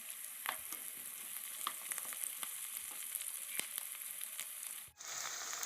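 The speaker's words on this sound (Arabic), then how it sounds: "هنفضل نشوح فيهم كده لحد ما يدبلوا كده" Tomatoes, parsley, coriander and bay leaves sauté in a pot for homemade chicken stock, a steady close sizzle with occasional stirring clicks, one brief dip near the end, no talking.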